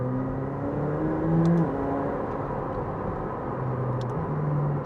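A McLaren 765LT Spider drives along a country road, its engine a steady, moderately loud rumble and hum with slight pitch shifts, heard from the cabin with no talking.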